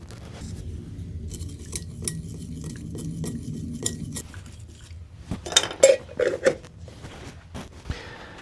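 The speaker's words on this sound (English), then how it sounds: "So I'm going to mix up a little bit of shellac." Shellac flakes are weighed and stirred into alcohol, 10 grams to 50 grams, bringing light scraping and clinking of a utensil against a container. Louder rattles and taps follow later.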